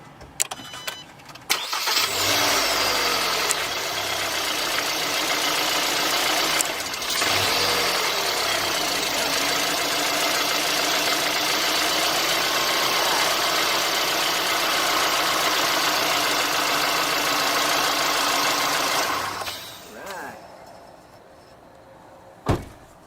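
A car engine, just jump-started with a JFEWGO 4000 peak amp jump starter, runs steadily at a loud, even idle for about eighteen seconds, then cuts off, leaving a few faint clicks and knocks.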